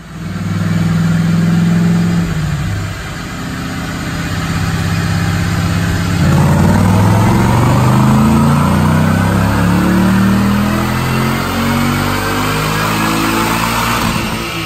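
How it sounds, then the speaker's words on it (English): A supercharged 2015 Roush Ford Mustang with a 670 hp kit on a dyno, loud engine holding, then revving up hard and sustained at high load, no voices. "Let's make a dyno pull and let's look at the numbers."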